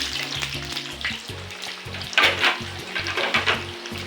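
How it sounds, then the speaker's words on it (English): Potatoes crackle and sizzle in hot oil, a dense steady frying hiss close by, with occasional louder pops and spatters. "I add in the potatoes and fry them until golden brown and crispy."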